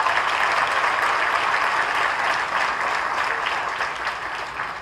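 Sustained applause from an audience at a 2005 college commencement ceremony, dense clapping that holds steady and then slowly fades toward the end.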